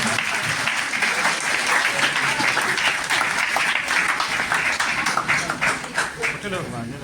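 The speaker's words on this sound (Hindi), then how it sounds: "Everyone clapping." An audience applauds at a college orientation program in Pusa, Samastipur, Bihar. Dense, loud clapping from a crowd is sustained throughout and thins slightly toward the end, with voices audible under it.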